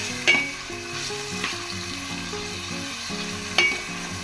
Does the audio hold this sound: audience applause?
no